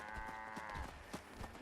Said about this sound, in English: Charlie the Moo Moo.